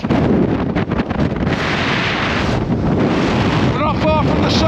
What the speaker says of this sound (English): Wind's nuts!